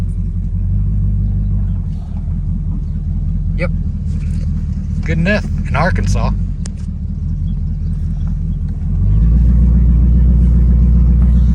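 A 1970 Pontiac LeMans with new shocks and brakes rumbles steadily while driving on an Arkansas road, a low continuous engine drone that swells louder near the end, with someone talking over it partway through.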